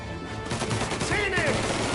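Gunshots ring out in Mafia Definitive Edition, a dense run of sharp bangs across two seconds, loud and close, with a voice audible in the mix.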